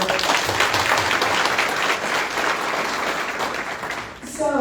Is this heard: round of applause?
yes